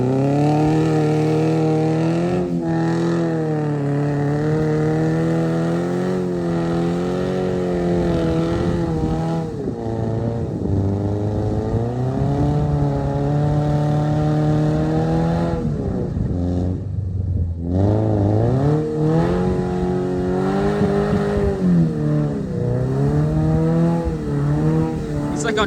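A street-legal 4WD Corvette stuck in mud, engine revving hard and continuously with rising and falling pitch as the tires spin, loud and near, with brief clattering and a person talking over it.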